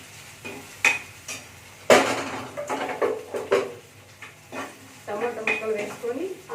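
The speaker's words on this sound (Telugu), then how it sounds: "మినిట్స్ తర్వాత టమోటా ముక్కలు వేసుకోవాలి" Tomato pieces drop into a cooking pan and get stirred, making a clattering metal scrape and a light sizzle. Several spoon knocks and scraping bursts come close and fairly loud, mixed with a person talking.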